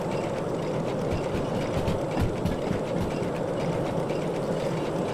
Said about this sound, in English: I can hear the train speeding up,